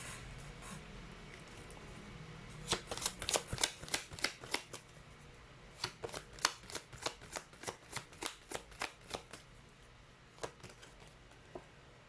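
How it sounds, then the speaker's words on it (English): Oracle cards riffled and flicked through in a long run of crisp, rapid papery snaps, close and fairly loud, tapering into a few single card pulls near the end, with no talk. "Let's pull up one last card."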